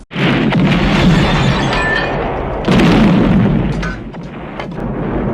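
Heavy booming grenade launcher explosions in Red Alert 2: Yuri's Revenge, two big blasts with rumbling tails followed by smaller pops and crackles, loud and close.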